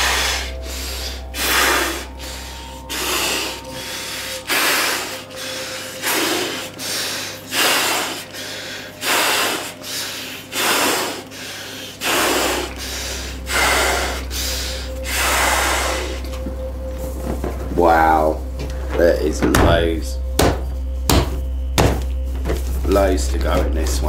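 Latex balloon being blown up by mouth, with repeated forceful breaths pushed in at a steady rhythm and audible gasps for air between them, close and clear, ending in squeaky rubbery stretching sounds.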